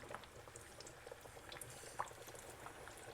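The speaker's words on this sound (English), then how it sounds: "Bubbling nicely. You need to be careful so that it doesn't splatter." Oil bubbling steadily in a pot while wagyu tenderloin katsu fries, a soft continuous boil with scattered small pops, fairly faint and heard alone.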